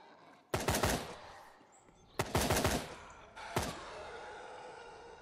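Gunfire in the video game Fear the Night, three loud close bursts of rapid shots separated by short pauses, with faint ambient noise between them.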